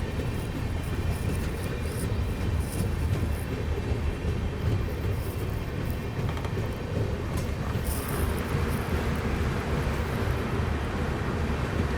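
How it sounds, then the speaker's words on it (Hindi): The Shatabdi Express runs along a loop line at Kurduwadi Junction, a loud, steady rumble of wheels and rattling coaches heard close throughout. "इस वजह से देखो लूप लाइन पे निकाला जा रहा है अपनी शताब्दी एक्सप्रेस को"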